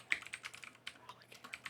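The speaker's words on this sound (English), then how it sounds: "I hear some typing." Quick, irregular keystrokes on a computer keyboard, close and fairly faint, tapping in short bursts with brief pauses between them.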